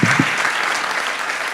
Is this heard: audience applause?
yes